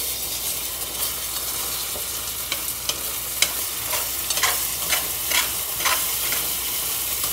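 Just Egg, a plant-based egg substitute, cooks in a pan for vegetable fried rice, a loud, even sizzle running throughout with sharp stirring clicks and scrapes scattered across it, and no speech.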